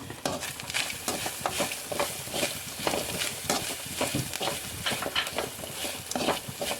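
Garlic and shallots fry in a pan, giving a steady sizzle broken by repeated scraping and clinking as a utensil stirs them close up.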